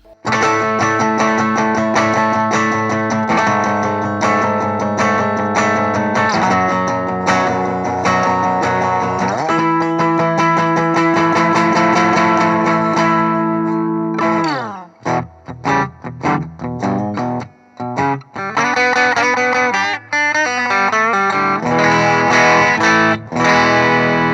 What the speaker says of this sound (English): Today I'm running through the KMA Audio Machine's Logan drive, and it sounds kind of low gain